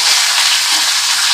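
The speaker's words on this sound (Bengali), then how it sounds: "মাছটাকে একটু কম আঁচে একটু বেশি সময় ধরে ভেজে নিলে" Leta fish fries in a pan of hot oil, a loud, steady, close hiss and sizzle with no pauses or voices.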